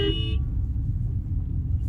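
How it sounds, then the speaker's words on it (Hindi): Brief car horn honk from a car being driven in first and second gear during a driving lesson, loud and harmonic for about a third of a second, then giving way to steady low engine and road rumble. "हॉर्न बजाएंगे"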